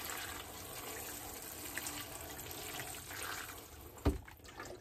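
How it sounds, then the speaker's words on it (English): Water from a watering can fitted with a rose sprinkles steadily over freshly repotted Venus flytraps, a soft continuous broadband hiss with a brief sharper splash near the end. "You want to use a watering can with a rose on the top, just so you get a bit more even coverage."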